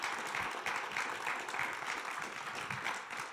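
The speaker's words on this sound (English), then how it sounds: "Let's give them a round of applause." Audience applause after a Sanford Health Foundation presentation, a soft, continuous wash of clapping hands at moderate distance, steady and fairly quiet throughout the short stretch.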